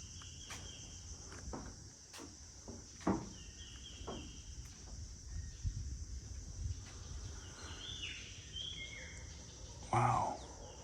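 Faint bird calls at a bird sanctuary in Malaysia, scattered chirps over a constant high insect drone, with soft footsteps and a louder call near the end.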